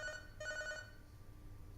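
A telephone rings in two short bursts of a trilling electronic bell, moderately loud over a steady low background rumble, then fades into the hum.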